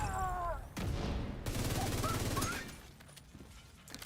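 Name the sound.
gunshots in a video game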